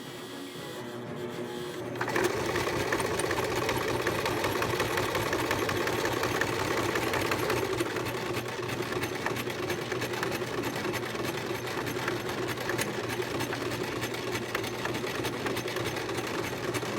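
A sewing machine runs steadily and loudly at close range for a long stretch, its fast mechanical chatter starting after a brief quieter moment and continuing without pause, no one talking over it.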